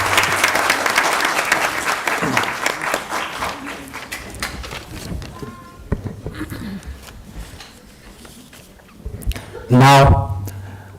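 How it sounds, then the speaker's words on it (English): An auditorium audience claps after a stage performance at a Nobel Peace Prize anniversary event for the Dalai Lama, loud dense applause fading gradually over several seconds, then a short burst of microphone noise and a brief voice. "a huge round of applause."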